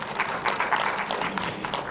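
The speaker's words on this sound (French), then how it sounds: "on applaudit aussi pour elle." An audience claps together at an association's general assembly, a dense, steady patter of many hands that swells slightly and holds for a couple of seconds.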